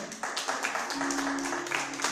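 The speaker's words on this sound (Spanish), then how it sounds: "Den un aplauso al Señor" A church congregation claps together for the Lord during a Spanish-language sermon, a soft, steady wash of many hands with a faint sustained tone running underneath.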